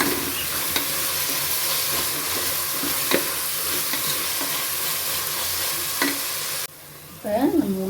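Onions sautéing in a pressure cooker, a steady close sizzle with frequent spoon scrapes and stirring clicks, ending with a brief lid or utensil sound after the frying noise drops.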